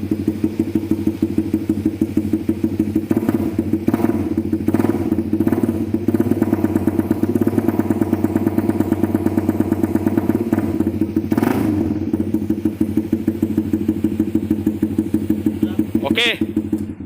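A motorcycle fitted with a Spec Racing (SR) exhaust runs close by with a loud, steady, throbbing idle, broken by a few brief throttle blips, while voices can be heard over the engine.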